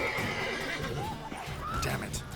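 Horse in The Witcher 3 video game neighing and whinnying in a couple of rising calls, mixed with clip-clopping hooves and other game sounds, moderately faint overall.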